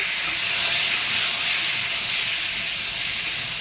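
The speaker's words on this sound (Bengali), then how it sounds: "এটা দিয়ে দিলাম তেলের উপরে, একটু ভাজা করে নেব" A steady, bright sizzle and hiss of boiled taro and potato frying in hot oil continues without pause, close and even in loudness.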